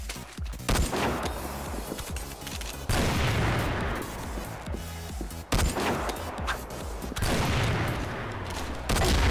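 Sniper fire from a Falcon rifle in the online shooter CrossFire, dense and loud throughout, with booming reports and echoing tails blending into continuous battle noise in several long waves.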